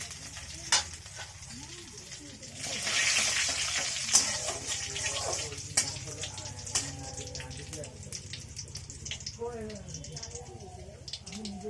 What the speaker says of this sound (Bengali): তেল দিলাম, এইবার দেব সাদা জিরে, ফোড়ন দেব সাদা জিরে